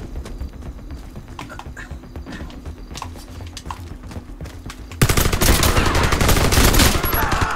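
Gunfire in the Warface shooter: scattered sharp shots at first, then an abrupt, much louder sustained burst of rapid automatic fire for the last few seconds.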